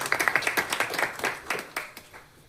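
A church congregation at a Methodist church in Nadiad breaks into a burst of applause, with fast, dense clapping close by that slowly thins and fades toward the end.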